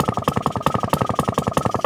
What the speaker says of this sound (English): Atco with a Villers Mark III midget engine, 2-stroker.